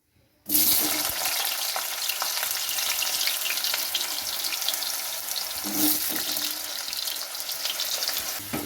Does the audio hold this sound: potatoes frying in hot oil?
yes